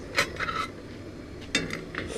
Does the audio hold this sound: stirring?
yes